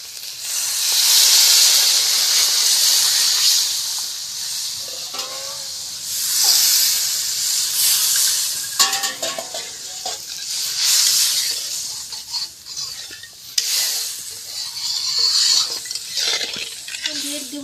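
Water hits fried spice paste in a pan while cooking a taro curry, setting off a loud, surging steam hiss and sizzle. Repeated scrapes of stirring run through the hiss for nearly eighteen seconds.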